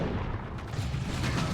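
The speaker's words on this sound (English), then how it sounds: "Venom Cannon getting a few shots on him" Heavy booming cannon fire from the Tyranid Venom Cannon in Warhammer 40,000: Dawn of War 2, a dense rumbling barrage of blasts mixed with battle noise, continuous over the short span.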